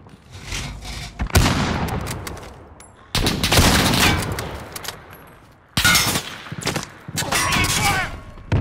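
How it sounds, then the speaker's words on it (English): Enemy sentry gun in Call of Duty Modern Warfare firing rapid automatic bursts in several loud close stretches separated by brief lulls, with gunfire dense and harsh throughout. "Enemy sentry gun active."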